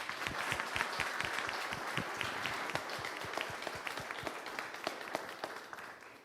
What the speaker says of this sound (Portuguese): até peço uma salva de palmas para o seu Vítor Panizzi e família